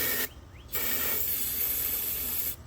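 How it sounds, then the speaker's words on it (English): A short hissing spray of starting fluid into the engine of a Honda pressure washer, close and steady, running for about two seconds after a brief pause. "We're gonna spray a little starting fluid in here"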